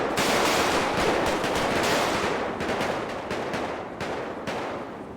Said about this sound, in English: Shooting started.